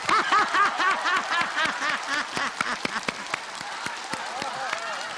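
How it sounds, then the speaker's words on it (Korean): Lecture audience clapping and laughing after a talk on laughter, with bursts of applause mixed with chuckles and rising, wavering cheers that thin out toward the end. "여러분 다시 한번 큰 박수 부탁드립니다"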